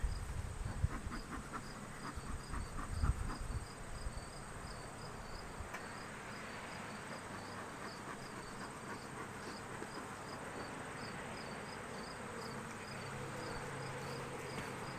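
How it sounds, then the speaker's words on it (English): Honey bees buzzing densely around an open hive during an inspection, a steady swarm hum that stays close and even, with a few knocks early on and no speech. "Just so many bees."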